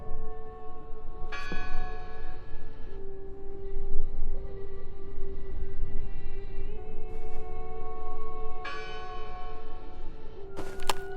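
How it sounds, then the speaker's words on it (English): Bells ring out in the video game Draugen, several bright struck tones clanging over a steady low drone, with resonant hums lingering between strikes. "I heard the bell!"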